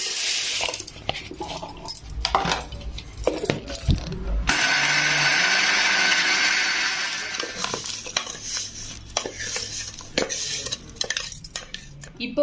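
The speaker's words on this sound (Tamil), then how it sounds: "வெந்தயமும் இந்த பதத்துக்கு குறகுறப்பாக அரைச்சி எடுத்துக்கோங்க" A mixer grinder coarsely grinding fenugreek seeds for mango pickle runs in one loud, steady whirring burst of several seconds, framed by clinks and clatter of utensils and jars before and after.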